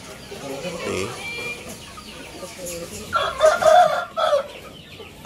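Aseel longtail chickens cluck in a coop and a rooster crows loudly in the second half, with quieter fowl noises and a voice talking faintly beforehand.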